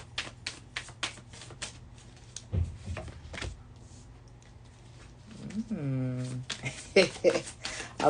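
Tarot cards are shuffled and split by hand at close range, giving a run of quick crisp snapping riffles. A voice hums or makes a sliding vocal noise partway through, with more card clicks after it.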